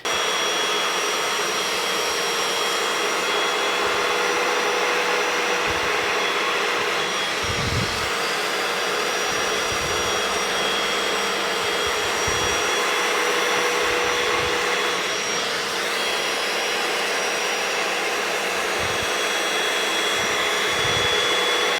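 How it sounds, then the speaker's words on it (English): A loud upholstery extractor vacuum whines continuously at close range inside a 2007 Subaru WRX, its pitch shifting slightly as the nozzle drags along a seat bolster, with occasional low thumps and no talking. "then we'll use our extractor, and by extracting all this out, it's going to help remove all the product"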